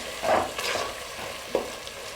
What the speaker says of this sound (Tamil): இதில் மல்லித்தலை, மல்லி புதினா சேர்த்துட்டு நல்லா இதோட மிக்ஸ் பண்ணி விட்டுடலாம்